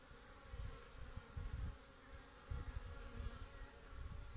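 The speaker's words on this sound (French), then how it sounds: "Là j'ai vu que les abeilles elles sortent super là" A steady, low buzzing hum of many honeybees flying out of a hive nearby, pulsing gently in loudness with no voices.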